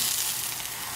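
A quesadilla laid on an oiled Blackstone flat-top griddle, giving a soft, even sizzle and hiss up close for a brief moment.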